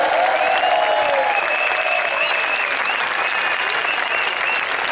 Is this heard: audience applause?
yes